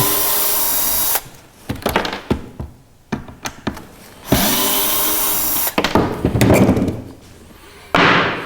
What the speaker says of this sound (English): just a matter of taking these screws out